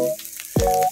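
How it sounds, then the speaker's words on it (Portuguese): Dried beef dropped into a pan of browning garlic, a sudden loud sizzle bursting in midway after a quieter stretch of frying, with a sharp clatter near the end. "já coloquei aqui o alho para dourar. Vou jogar a carne seca, ó."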